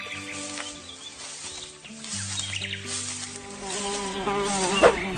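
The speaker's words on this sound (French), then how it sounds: "Dégage, saloperie de mouche. Pourquoi il y en a autant ici?" Several flies buzz close by in a steady, wavering drone that rises and falls throughout, with no talking.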